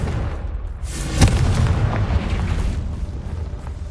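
Hogwarts Legacy's Confringo spell erupts in a loud fiery explosion, with a sharp crack about a second in followed by a thick, sustained rumbling roar, and no speech.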